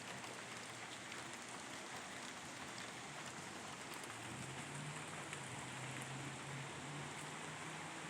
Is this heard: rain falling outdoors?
yes